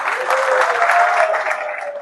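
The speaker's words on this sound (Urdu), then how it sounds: "بہت ساری تالیاں" An audience at a poetry gathering claps steadily in a dense, even burst of applause throughout.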